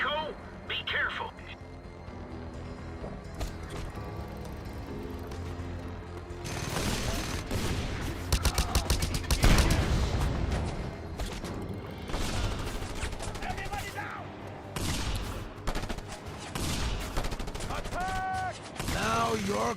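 Mounted guns fire in Just Cause 2 in repeated bursts of rapid gunfire. The shots fade in and out over the scene, heaviest near the middle, and a voice talks throughout alongside other game sounds.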